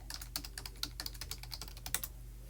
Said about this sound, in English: I'm going to enter this in on my computer really quickly